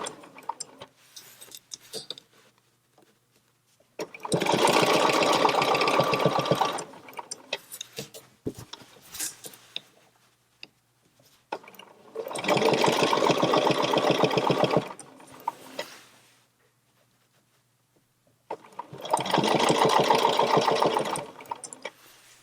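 A sewing machine free-motion quilts a spiral with a quilting ruler on a real quilt, in three loud bursts of rapid stitching separated by quiet pauses with small clicks.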